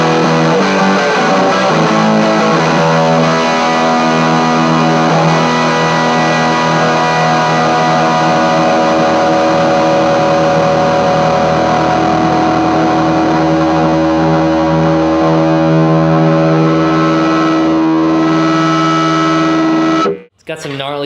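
An electric guitar plays through a JHS Sweet Tea pedal with the drive turned very high for heavy gain. One loud, thick distorted chord sustains for about twenty seconds before it is choked off abruptly.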